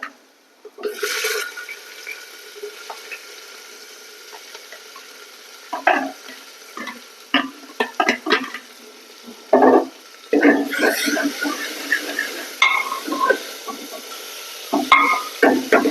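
Chopped onions dropped into hot oil where garlic has just browned, a steady sizzle broken by loud scraping stirs of a spoon at close range, with a voice talking intermittently.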